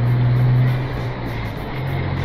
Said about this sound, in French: Écoutez-moi ce beau moteur-là.